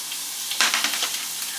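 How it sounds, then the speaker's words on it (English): Chicken sizzles and fries in a pan, a steady close hiss with a brief louder burst of crackling and spattering in the middle, heard alone without talk. "we're just gonna sizzle the chicken and then eat this."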